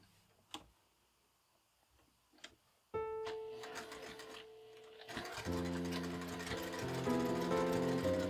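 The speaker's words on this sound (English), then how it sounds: "Backstitch wherever you start and stop sewing on this lining." Sewing machine stitching the lining of a quilted Christmas stocking, preceded by a couple of sharp taps, then a whirring, humming motor with a rapid stitching rattle building over several seconds, close and clear.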